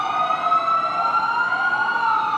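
A new ambulance on a city street in Chihuahua sounds its siren, a loud, close, continuous wail that holds steady throughout with no talking.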